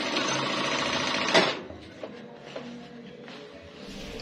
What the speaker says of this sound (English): so let me quickly sew